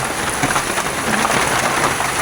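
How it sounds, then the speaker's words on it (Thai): Heavy rain pours during a strong storm over flooded rice fields, a dense, loud, close hiss of drops that stays steady throughout, with no voices. "ฝนตกอีกแล้วพี่น้อง"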